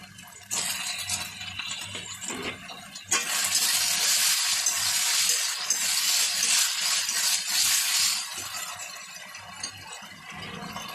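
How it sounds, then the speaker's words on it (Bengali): Chopped tomato and spice masala for a fish roe and cauliflower curry, frying and being stirred in a pan: a steady loud sizzle with scraping stirs, quieter for the first few seconds then swelling into a dense hiss. "এবার এই মশলাটাকে ভালো করে কষাতে হবে"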